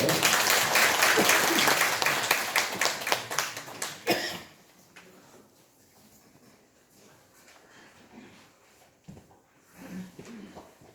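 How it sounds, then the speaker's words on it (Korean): Congregation applause at a Sunday church service welcoming a choir member, several seconds of brisk clapping that stops abruptly, leaving a few isolated claps and quiet room sound. "우리 큰 박수로 환영합시다"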